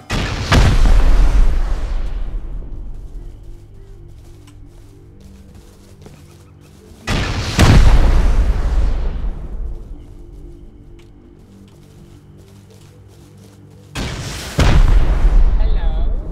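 Three massive explosions and gunfire in the survival game Rust, each a loud, close blast with a long rumbling decay, spaced about seven seconds apart.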